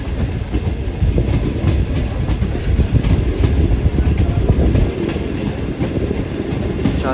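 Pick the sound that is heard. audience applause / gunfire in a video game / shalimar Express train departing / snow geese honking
shalimar Express train departing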